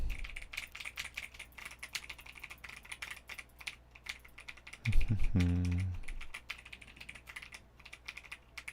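Computer keyboard typing runs throughout as a fast, dense patter of close key clicks, broken briefly by a louder low burst of another sound midway before the clattering resumes.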